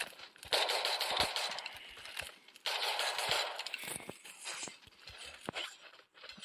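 Groza assault rifle fire in the Free Fire video game: quiet rapid bursts of automatic gunshots, two longer strings separated by a short pause, then scattered single cracks and clicks.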